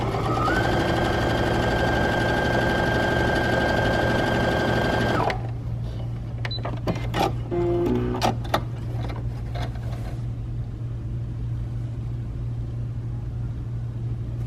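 A Baby Lock Presto II sewing machine stitches quilted material in a loud, steady, continuous whir for about five seconds. It then stops, followed by a few scattered mechanical clicks and small handling sounds.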